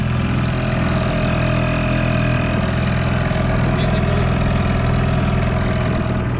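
A heavily loaded motorboat's outboard engine drones steadily and loud throughout as the boat pushes 6 to 8 km upstream against the current on a river, carrying about 200 kg of corn.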